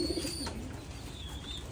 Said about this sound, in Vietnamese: Đây là chim bồ câu ở độ tuổi 2 đến 3 tháng tuổi nhé.